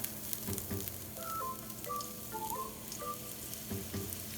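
Oil sizzles steadily in a pan with browned coconut for chicken hariyali, a close, continuous crackle with a few soft clinks and brief tonal beeps in the background, and no speech.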